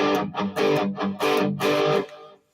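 Distorted electric guitar plays short, punchy phrases over a chord progression in an improvisation lesson, loud and close, with notes in clustered bursts and a brief gap before a final fading note.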